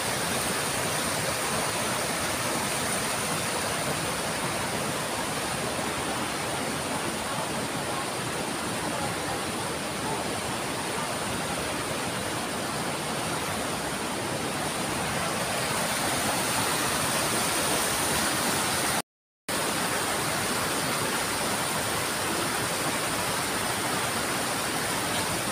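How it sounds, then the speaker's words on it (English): A river flowing, a steady broadband rush of water that is even and continuous throughout, with a brief dropout near the end and no voices. "Beautiful river."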